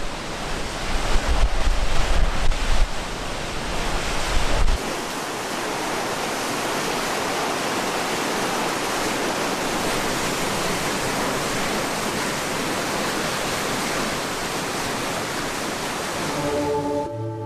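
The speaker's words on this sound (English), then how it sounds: "Just a bit further downstream, the calm flow turns to rapids." River rapids roar in a dense, steady rush of churning water, loud and continuous with no voices, heavier gusty rumble at the start before settling into an even wash.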